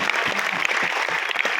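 An audience claps steadily throughout a Hindi poetry recital at a college fest at IIT Patna, dense and loud applause with no pause.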